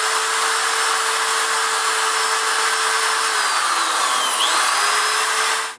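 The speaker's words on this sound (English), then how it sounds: "use the wire brush on the drill to clean this" A wire brush spun by a power drill scrubs an engine head from a lawn tractor's OHV engine, making a loud, continuous high whine that stays close and even, dipping in pitch briefly near the end before stopping.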